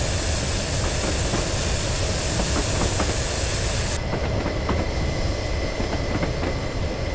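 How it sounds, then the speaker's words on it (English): A steam-era train in the RailWorks simulator rolls along with a constant loud rumble and hiss, light squealing and ticking from the wheels on the rails running through it, steady and close with no voices. "you can also hear the squeaking of the train wheels in between the tracks"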